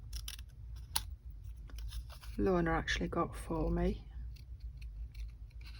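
Stampin' Up snips scissors cutting paper for a handmade bloom card, giving a few crisp snips and crunchy cuts close by while someone talks over them.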